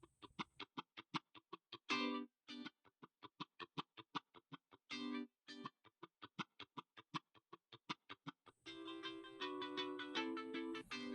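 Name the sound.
layered funk guitar part with key switches on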